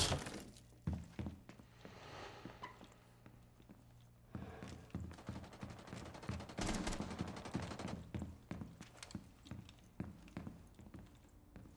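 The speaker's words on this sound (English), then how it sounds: "Someone broke a window there. Oh, they broke it once." Window glass breaking in Rainbow Six Siege during a ranked match, amid a dense, busy mix of gunfire, clattering impacts and shattering that runs fairly faintly throughout.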